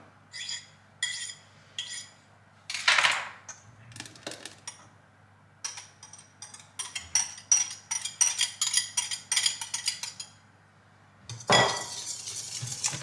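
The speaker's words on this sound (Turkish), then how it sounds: "Yine iyice karıştırıyoruz." Cake batter with margarine is mixed in a bowl: close, rhythmic clinks and scrapes of a utensil against the bowl come in bursts separated by short quiet pauses, with no talking.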